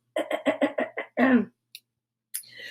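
A burst of coughing: several quick harsh coughs in a row, then a heavier one, followed by a faint click and a brief breathy noise.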